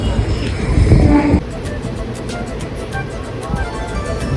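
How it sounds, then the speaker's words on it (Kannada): Rumbling, rattling train noise from inside a moving carriage on a train to Tirupati, a loud burst early on, then a steady clatter with faint voices. "ಈಗ ಟ್ರೈನ್ ಹತ್ತಿದ್ದೀವಿ"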